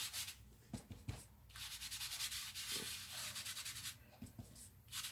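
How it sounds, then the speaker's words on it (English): Sanding sponge rubbed across an embossed card, producing repeated scratchy back-and-forth strokes in a steady close rhythm, with brief pauses between passes. "I didn't sand it very much"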